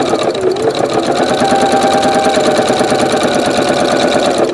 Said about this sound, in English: we're going to sew right on the edge there